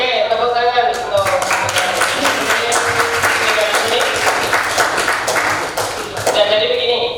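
Classroom audience applause during a teaching session, steady, fairly loud clapping running throughout with voices talking over it.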